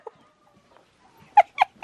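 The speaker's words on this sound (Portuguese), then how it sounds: "Tem uma galinha aqui fora." A hen clucks outdoors in a few short, close calls near the end, preceded by a faint sound amid near silence.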